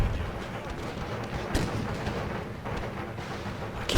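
Artillery and gunfire from the video game Empire: Total War, a dense rumbling battle with several heavy booms breaking through a constant roar of musket fire.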